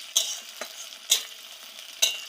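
Elephant foot yam stems fry with chopped onion and no spices in a pan, a faint hiss broken by three sharp scraping stirs of a spatula spaced about a second apart.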